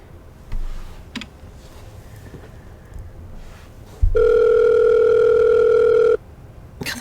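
A telephone in the video game Murder on the Orient Express rings with a loud, steady electronic tone lasting about two seconds, preceded by quiet clicks and faint room sounds.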